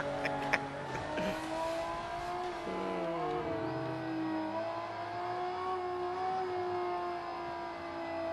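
A car engine revving at an electronics trade show, a steady droning hum with shifting pitch that rises and swells over several seconds, moderately loud and continuous.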